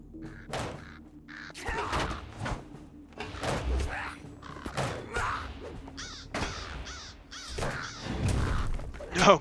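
Crows caw repeatedly in the Lord of the Rings Online video game, harsh calls overlapping in busy bursts amid game effects and a door-like slam, with no voices over them.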